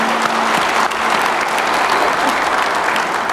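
A large crowd at a Korean government ceremony on regional high-tech industry strategy applauds loudly and continuously, a dense, even clatter of many hands.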